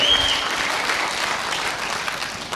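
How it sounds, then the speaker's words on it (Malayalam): Audience applause for a guest named Muhammad at a talk, a dense steady clapping from the whole crowd that holds for the full stretch and eases slightly toward the end. "ഒരു ശക്തമായ കൈയടി കൊടുക്ക്"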